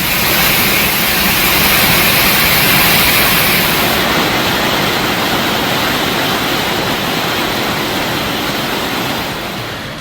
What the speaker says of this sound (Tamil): கும்பக்கரை அருவியில் வெள்ளப்பெருக்கு ஏற்பட்டுள்ளதால் சுற்றுலா பயணிகள் குளிக்க தடை விதிக்கப்பட்டுள்ளது